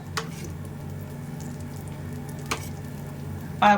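Oil sizzling under a chapati dosa in a pan, a soft steady frying hiss close by with a couple of brief clicks and a louder burst at the end, no voices.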